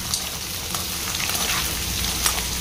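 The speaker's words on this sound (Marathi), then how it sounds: "शिजवून घेतले बटाटे आणि मग थोडे फ्राय करायचे" Boiled potatoes fry in hot oil for a dum aloo, giving a steady, close crackling sizzle with a few brighter pops. No one talks.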